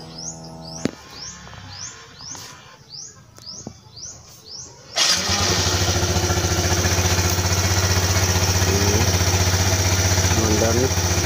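A Kawasaki Z125 motorcycle with a fault that makes it stall while riding cranks with a few short starter chirps, then starts at about five seconds and settles into a loud, steady idle close by.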